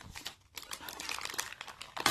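Packing paper that came with an online order crinkles and rustles up close while a package is unboxed, in continuous dry crackling bursts with a sharper crunch near the end and no voice over it.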